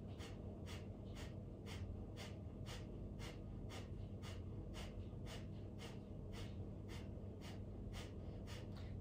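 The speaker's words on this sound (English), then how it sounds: "really breathing with the breath of fire" Rapid, rhythmic breath of fire from a Kundalini yoga practice, sharp nasal exhalations pulsing about twice per second in an even, sustained series, close and fairly quiet over a low hum.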